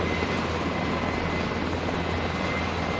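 A helicopter engine runs nearby on the ground, a loud, steady turbine roar with low rotor throb holding constant throughout.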